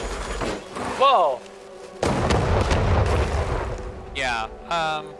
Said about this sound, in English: Yeah, there's bombs here.